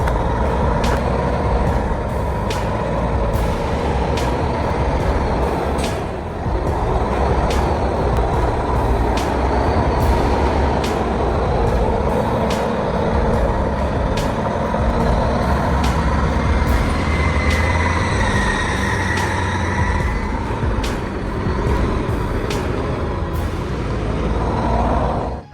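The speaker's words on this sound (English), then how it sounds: "truck carrying glue roared and wriggled on the red dirt road" A heavy truck loaded with glue drives over a muddy red dirt road, its engine loud and close in a continuous roar, with repeated sharp clanks and knocks throughout.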